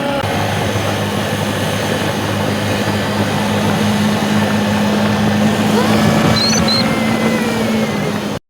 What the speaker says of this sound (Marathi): डबल आपल्या गाडीवर बसून निघालोय आता मस्त उतारानच जात आहे आपली गाडी